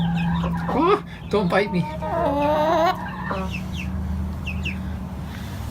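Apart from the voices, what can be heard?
chickens clucking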